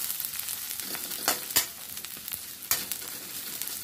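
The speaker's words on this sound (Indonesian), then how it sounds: "Sama seperti bawang merah juga diaduk-aduk seperti ini supaya tidak gosong." Garlic frying in a thin wok, a steady loud sizzle broken by scraping stirs of the spatula against the metal at irregular intervals.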